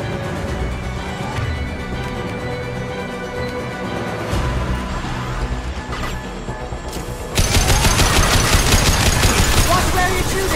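Weapon fire from the video game Mass Effect 2: loud bursts of shots and mechanical clatter within a dense battle mix, with the firing growing heavier and louder toward the end.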